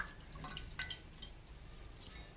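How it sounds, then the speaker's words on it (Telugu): Faint trickling and dripping water with small splashes as leaves are rinsed, quiet and close, no voices. "నీళ్ళు తీసుకొని అన్ని ఆకులు కూడా ఒక్కొక్కటి ఒక్కొక్కటి కడుక్కోవాలి"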